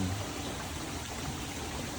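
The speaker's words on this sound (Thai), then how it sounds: "ก็มีลำธาร" A small stream flows through the garden of a cafe in Chiang Mai, a steady close wash of trickling water with no breaks and no voices.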